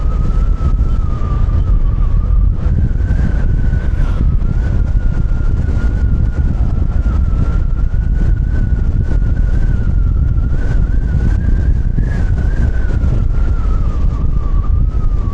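Road traffic heard from a Fortress 160 motorcycle amid steady engine and wind roar, with a continuous wavering tone above, loud and close throughout.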